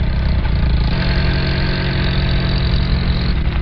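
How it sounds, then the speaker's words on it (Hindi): A cartoon jeep engine turns over and settles into a loud, steady idle close by, a low rumbling chug with a slight knocking vibration and no voices over it. "अभी मैं जीप निकालता हूँ। गाड़ी स्टार्ट कर।"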